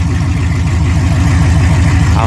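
A 1971 Chevy Nova with an LS engine swap idles through an open exhaust, a steady, loud, lumpy low rumble with even pulses throughout and no talk over it.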